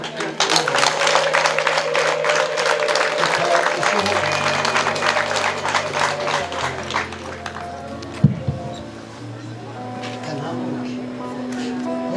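Wedding guests clap together in a steady, dense burst of applause that tapers off after several seconds, while music and voices carry on underneath.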